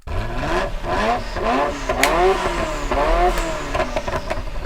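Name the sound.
1992 Ferrari F40 engine revving in Gran Turismo 7 video game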